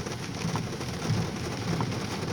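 Light summer rain pattering on a car window on Route 66 on the West Mesa in Albuquerque, New Mexico, a soft, steady, fine patter with occasional louder drops, faint and even throughout.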